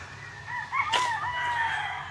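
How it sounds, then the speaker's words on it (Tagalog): A rooster crows once at a farm, a clear rising-and-falling call close by, with a faint scratchy burst in the middle and steady background noise underneath. "pagpasok pa lang natin, nandyan na yung mga manok,"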